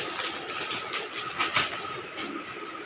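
A child plays with a toy train, giving a steady rattling, clattering run of small plastic wheels and parts that continues for about three seconds at close range with no talk.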